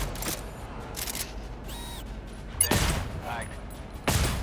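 Gunfire in the co-op shooter GTFO rings out as a few sharp, loud separate shots spaced seconds apart, with mechanical clicks and faint game tones between them.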